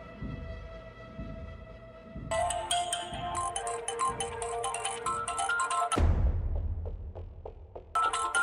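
A phone ringtone plays on and on unanswered, a repeating electronic melody that shifts pattern partway through, steady and fairly close with no voice over it.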